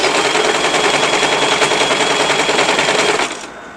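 A sewing machine stitches a petticoat, its needle running in a fast, steady mechanical chatter, loud and close, before stopping abruptly near the end.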